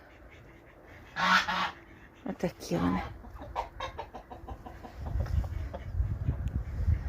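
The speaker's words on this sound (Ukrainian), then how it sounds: "Ось такий селезень здоровий і такі качечки." Big brown ducks and a drake in a village yard give a few short, nasal quacking calls, loud and close, while someone talks over and between them.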